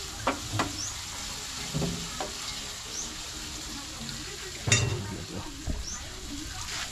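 Scrambled eggs with malunggay leaves and hotdog frying in a pan, a soft continuous sizzle with a few scattered clinks and stirring knocks, close and fairly quiet.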